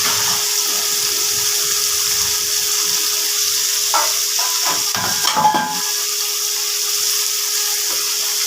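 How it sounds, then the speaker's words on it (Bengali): Onion and tomato sizzle together in a hot pan for mutton curry, a steady broadband hiss running throughout with a few brief clinks of stirring near the middle; no voices. "পেঁয়াজ আর টমেটো একসাথে ভেজে নেব।"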